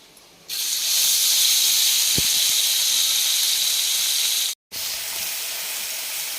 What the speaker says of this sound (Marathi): आता यामध्ये मिरची आणि लसणाचा मी इथे ठेचा घालते